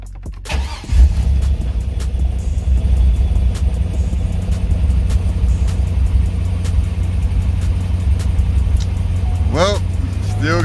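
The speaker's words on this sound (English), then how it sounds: "Then we're gonna start the car" A Corvette engine cranks and catches, then settles into a loud steady idle rumble that runs on without stopping.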